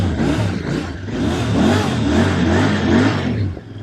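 A Royal Enfield Interceptor 650 motorcycle exhaust revs up and down repeatedly, a loud close throaty roar rising and falling in pitch with each throttle blip.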